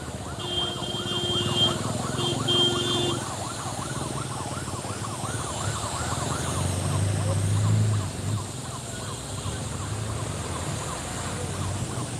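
Fire service vehicle sirens wail as trucks arrive at a gas fire at a CNG filling station in Sylhet, a steady siren over crowd noise and street bustle, with a reporter speaking throughout.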